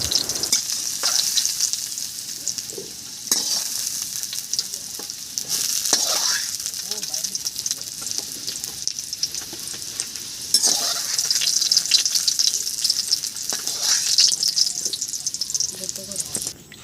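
Potatoes frying in oil in a home kitchen while being stirred, a steady bright sizzle running throughout with scraping stir strokes breaking through now and then.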